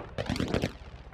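Rapid burst of gunfire in the video game Call of Duty DMZ, a quick run of muffled shots lasting under half a second, moderately loud, then fading into a low background.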